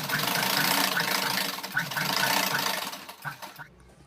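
A sewing machine stitches blouse fabric for a prince cut blouse, a steady close mechanical whir running for a few seconds, then slowing with a few uneven clatters before it stops.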